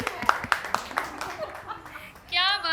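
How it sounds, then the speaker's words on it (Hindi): Applause for a team performance at a stage event: about four sharp, evenly spaced claps ring out over busy background noise, then a steady high whistling tone takes over near the end. "जोरदार तालियां।"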